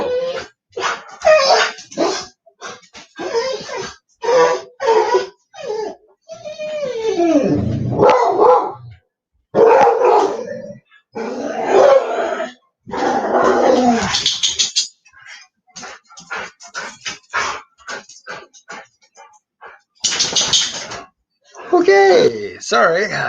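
A dog barks repeatedly and growls in agitated bursts, alternating with whimpers and yips, close and loud, while a person talks intermittently over and between the outbursts.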